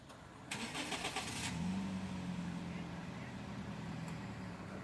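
A car pulls up outdoors in the evening: a mid-pitched engine hum rises with a brief rattling burst, then idles steadily and fairly close, with faint voices nearby.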